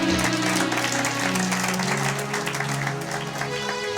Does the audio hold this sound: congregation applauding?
yes